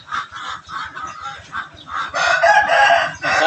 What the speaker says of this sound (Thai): ขันให้คนฟังไง